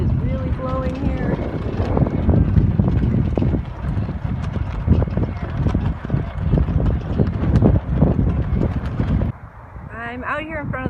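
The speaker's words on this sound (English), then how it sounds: "The wind is really blowing here." Strong wind buffeting a microphone near the Washington Monument, a loud continuous roar with gusty surges that drops away abruptly near the end, leaving a brief quieter moment.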